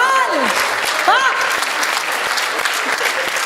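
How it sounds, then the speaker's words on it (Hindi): Strong applause from an audience at a Hindi poetry reading, dense steady clapping throughout, with a voice speaking over it near the start. "भाई जोरदार तालियां होनी चाहिए इस पर"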